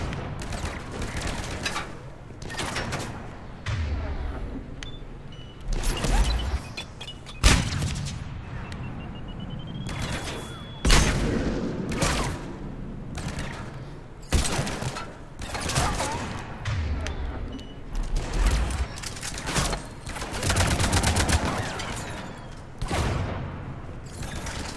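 Heavy firefight in the Mass Effect 3 video game: repeated bursts of gunfire, booming impacts and thuds arrive in irregular clusters for the whole stretch, loud and close, with brief mechanical clanks and occasional voices in between.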